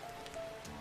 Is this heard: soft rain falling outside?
yes